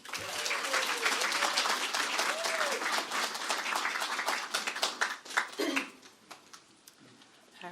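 An audience breaks into sustained applause to welcome Dr. Christina Lee Kim as a church community speaker, with dense, steady clapping that thins into scattered claps near the end.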